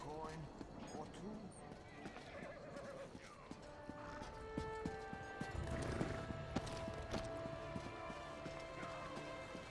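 Horse in the Elder Scrolls Online video game whinnying clearly several times with clip-clop hooves beneath, amid game sound effects and someone talking over it.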